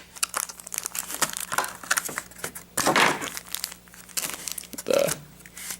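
Crinkling and tearing plastic wrapping on a Cardfight!! Vanguard trial deck, Purgatory Revenger, with close, irregular crackling bursts and one louder rustle midway.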